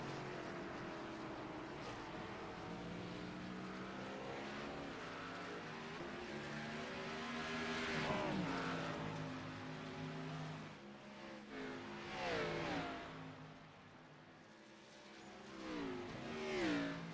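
NextGen Xfinity Series stock cars racing at the Glen, engines droning and shifting in pitch as they rev and pass, loud and steady for the full stretch with a rising surge partway through and no talking.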